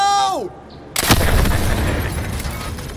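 A C4 charge detonates in the Call of Duty: Modern Warfare Remastered training level: after a brief voice, a sudden loud blast hits and then rumbles and crackles as debris settles over the next two seconds.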